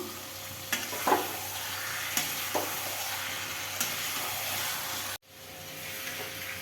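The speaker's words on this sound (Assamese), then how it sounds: "এতিয়া চিকেনটো ভাজিব লাগিব অকণমান সময়" Chicken with spices fries in a pan, giving a steady, close hiss and sizzle punctuated by a few light utensil knocks before a sudden brief cut, after which the sizzle resumes.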